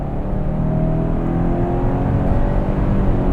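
A 2019 Subaru Ascent SUV with a turbocharged 4-cylinder engine accelerates at full throttle, a loud, steady, rising engine drone heard from inside the cabin with no talk.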